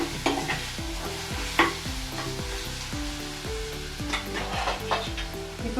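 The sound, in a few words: ginger garlic paste frying in a pan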